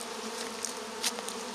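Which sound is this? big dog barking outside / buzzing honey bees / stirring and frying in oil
buzzing honey bees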